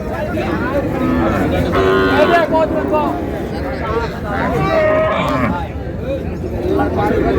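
Cows and calves mooing repeatedly at a busy rural cattle market, several long calls rising over a constant murmur of crowd chatter and nearby voices.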